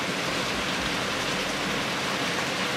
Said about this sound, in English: Ooh, baby, it's pouring down.